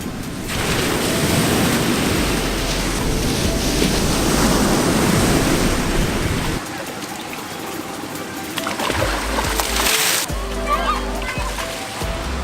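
Ocean surf rolls and washes onto a beach in Bali, a steady broad roar with wind buffeting the microphone, breaking briefly before surging again near the end.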